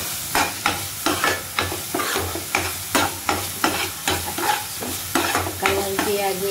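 An onion and tomato masala for chana chole fries in oil while being stirred, giving a constant sizzle broken by about a dozen regular, close scraping strokes of a spoon against the pan.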